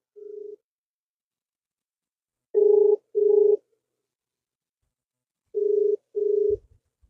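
A mobile phone call on speakerphone gives a short tone, then paired ringback tones in a steady repeating pattern, clear and close against silence.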